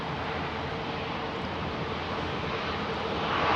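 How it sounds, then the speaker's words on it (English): A Rolls-Royce-powered Airbus A350-1000 at Heathrow gives off a broad, steady engine roar that swells slightly toward the end, with no voices over it. "The XWB Rolls-Royce Super Twin powered A350, and it's a 1000 variant, folks."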